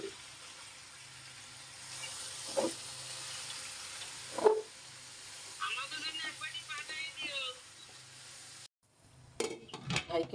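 Meat dropped into a hot cooking pot at a home stove, setting off a sizzle and frying crackle with a couple of sharp clanks of utensils against the pot, while someone talks over it.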